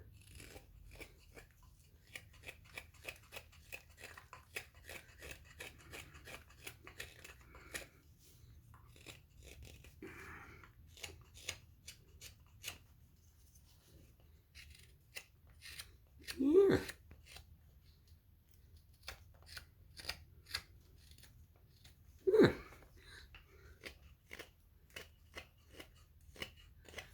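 A knife whittles wood, taking off hard edges on the back side of a simple carving, giving a steady run of short, dry scraping cuts that tick along faintly, with two louder knocks and a brief spoken word.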